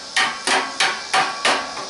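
Five sharp metallic hammer blows drive a screwdriver into a truck's exhaust pipe during a muffler replacement, struck at a steady, evenly spaced rhythm, close and loud with no talking.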